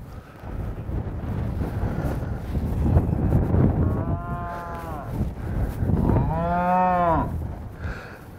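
Penned cattle moo in two long, drawn-out calls, the second louder and nearer, over steady wind noise buffeting the microphone.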